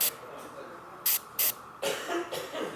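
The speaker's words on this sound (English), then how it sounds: "we were spraying just one model and working between colors" Short airbrush bursts of paint onto a miniature model, working in orange and red basecoats: two brief sharp hissing sprays, then longer uneven spraying, faint and close against a quiet room.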